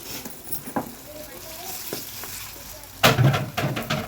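Fish pieces fry in oil in a pan for fish pulusu, a soft sizzle under quiet stretches, then a louder burst of crackling and stirring near the end, with a few knocks of a utensil.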